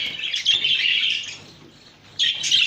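Pet Japanese finches chirp in a new cage: a busy, bright stream of tweets that dips briefly and then resumes loudly, with no talking.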